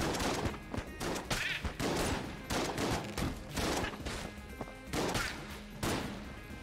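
Rapid bursts of video game gunfire from Enter the Gungeon, including shotgun blasts, repeat in dense clusters loud and close, with crashing impacts between shots and no pauses.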